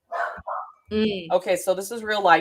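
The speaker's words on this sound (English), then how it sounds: "You can probably hear my dogs in the background." Pet dogs give a couple of quick barks close by in a home, then fall quiet as a person starts talking.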